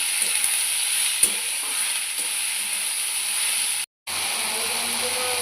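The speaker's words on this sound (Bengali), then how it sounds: "এবার একদম কুচি কুচি করে কেটে রাখা কচি কচি পুঁই শাকের পাতা আর আগাটা দিয়েছি। দিয়ে এবার শাকটা একটু নেড়ে নেব।" Chopped young Malabar spinach leaves and tender tips being stirred in a frying pan, a steady close sizzle with occasional scraping clatter, briefly cutting out near the end before resuming.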